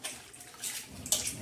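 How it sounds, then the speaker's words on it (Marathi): Colocasia leaves are swished and rinsed in a basin of salt water, producing soft close splashes and sloshing with a few brighter watery splashes toward the end, with no voices. "पाण्यामध्ये असे पानं टाकून असे छान असे धुवून घ्यायचे, असे मिठाच्या पाण्यामध्ये"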